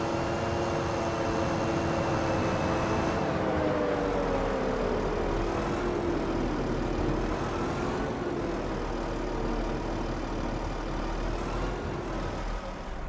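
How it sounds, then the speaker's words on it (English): A JCB machine's engine left running fast in Farming Simulator 25 on Lone Pine Plains, a steady, fairly quiet mechanical whine and hum with slowly shifting tones. "Oh, I was wondering why the engine was running so fast."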